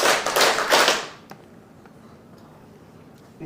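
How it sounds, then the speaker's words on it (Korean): A seated church audience at a Bible study session claps in unison, a dense burst of hand claps in the first second, then a quiet room with a few faint taps. "박수 3번만 쳐보겠습니다."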